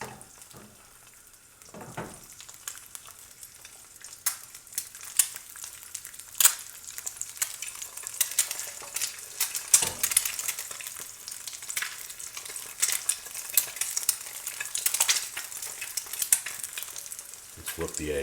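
An egg fries in a red granite nonstick pan, a steady close sizzle with crackling pops and occasional scrapes, running alone without talk.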